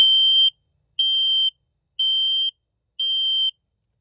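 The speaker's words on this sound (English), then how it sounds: "To do that test, you just simply push this button. It is a little loud" Four loud, piercing electronic beeps from a smoke detector test inside a 2022 Palomino Real-Lite SS-1608 truck camper, each about half a second long, evenly spaced one per second with silence in between.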